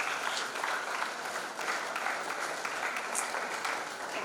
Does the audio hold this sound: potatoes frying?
no